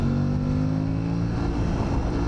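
Aprilia Tuareg Rally motorcycle engine running steadily nearby, a loud, constant low throb with a rough, gritty edge and no talk.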